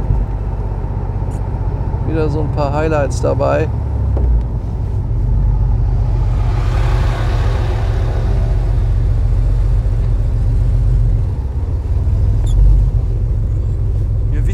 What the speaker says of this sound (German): Da ist jetzt unser Laster mit den Autos.